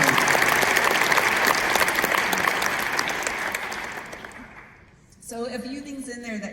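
A room full of people applauds students at a University of Colorado world affairs conference, dense steady clapping that fades out, followed by a voice speaking.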